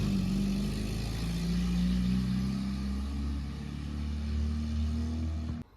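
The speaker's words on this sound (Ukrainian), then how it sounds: "Машинка уїжджає." A Lada VAZ-2107 car drives away, its mid-pitched engine droning steadily with slight rises in pitch before cutting off abruptly.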